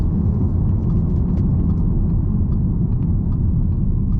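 A 2013 Audi SQ5 3.0 BiTDI diesel with Tiptronic quattro drives along, its engine giving a steady, loud low rumble with road noise and no voices.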